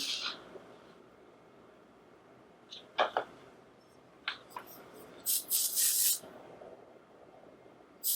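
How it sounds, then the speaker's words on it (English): Aerosol hairspray hisses in several short bursts during a razor haircut, with a longer spray near the end, fairly close against quiet room tone. "Is that too much aerosol for you?"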